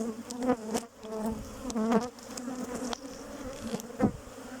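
Honeybees buzzing densely around an opened beehive, a close continuous drone with individual bees zipping past the microphone, no talking.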